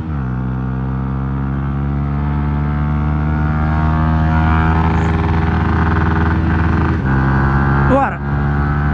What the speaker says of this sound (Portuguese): Moto tá andando bem.